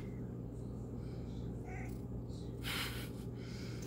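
A cat meows a couple of times nearby, a short call followed by a louder, drawn-out meow over a low background hum.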